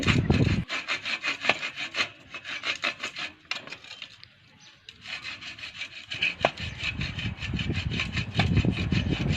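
A hand saw rasps steadily through wood in rapid back-and-forth strokes, pausing briefly midway before resuming, loud and close.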